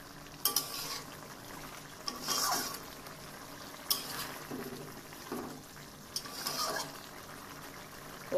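Chicken pieces with potatoes stir-fried and braised in a pan, a soft bubbling simmer beneath intermittent sharp scrapes and clacks of a spoon against the pan, heard close and fairly quiet.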